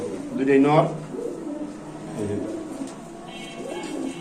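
Pigeons kept for sale coo in low, throaty warbles while people talk close by.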